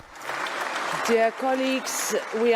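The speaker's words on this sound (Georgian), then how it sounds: "კონსტიტუციის დამრღვევ ზურაბიშვილს კონკრეტული ევროპარლამენტარები გაწერილი სცენარით დროშებითა და ტაშით დაახვედრეს." Applause greets Georgian President Zurabishvili at the European Parliament, a broad, steady clapping wash that carries through the clip with voices talking over it in the second half.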